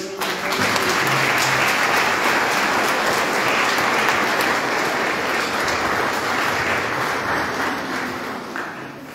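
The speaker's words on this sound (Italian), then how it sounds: "un applauso" A church congregation at an Easter vigil bursts into sustained applause, a thick wash of many hands clapping that stays loud throughout and fades slightly at the end.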